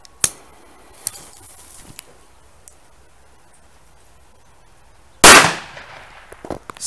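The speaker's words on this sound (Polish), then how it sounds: "A teraz ze starej." An old-series firecracker goes off with a single loud, sharp bang, preceded by a few faint clicks and ticks and followed by a short scatter of small crackles as it dies away.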